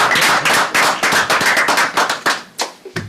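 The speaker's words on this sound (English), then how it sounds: "Not enough people left in the audience to clap," A small audience at a village board meeting claps, close and loud, with dense applause that thins out into a few scattered last claps.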